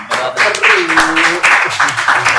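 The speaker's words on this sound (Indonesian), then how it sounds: "Tepuk tangan sendiri." A crowd at a live stream claps in a loose burst of applause, moderately close, mixed with people talking over it throughout.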